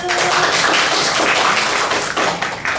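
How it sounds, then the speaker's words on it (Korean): An audience claps steadily for nearly three seconds at the start of an upper-elementary individual round of a national reading, debate and essay contest. The dense, continuous applause is close and loud, with no talking. "박수!"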